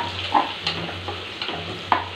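Green chillies sizzle and fry in a hot pan while egg biryani is being made, a steady close crackle with a few stirring scrapes, no talking.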